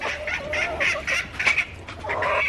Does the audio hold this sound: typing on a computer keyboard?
no